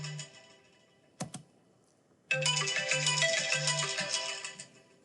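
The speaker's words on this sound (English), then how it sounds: "That's my phone." A mobile phone ringtone chimes in a short repeating melodic pattern, loud and close, after a sharp click, cycling through several bright tonal bursts before fading; no speech.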